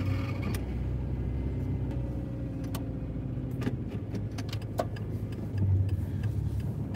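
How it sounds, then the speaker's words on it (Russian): A car drives through the streets of Anadyr in Chukotka, a steady low engine and road rumble running throughout with faint clicks and rattles on top, and no one talking. "Поехали, прокатимся на улицу Беринга по просьбе зрителя."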